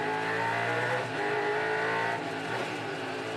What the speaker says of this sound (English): They rev these cars very hard.